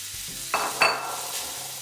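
Cooked pasta is stirred into sizzling brown butter in a non-metal pan, a soft steady sizzle broken by a couple of sharp scraping clatters from the utensil, close and with no talking.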